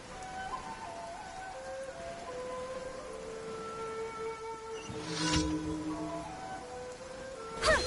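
Rain downpour in the Genshin Impact video game, a soft steady patter of rainfall beneath tonal game music with a brief swell of noise partway through.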